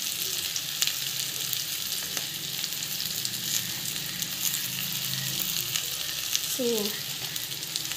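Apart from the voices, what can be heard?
sautéing potato masala in pan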